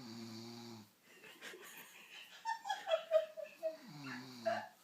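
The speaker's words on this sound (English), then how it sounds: "this is proof that you snore." A person asleep snores after too much wine, with loud rasping, wheezy breaths that rise and fall in a rhythm of several pulses, close to the listener, alongside a brief voice and some giggling.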